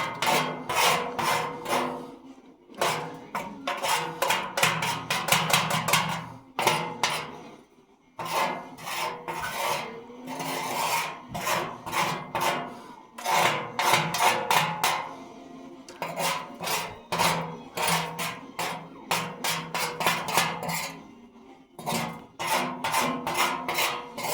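Material is scraped together by hand in repeated rough rasping strokes, bursts of close scraping broken by brief pauses, with no talk.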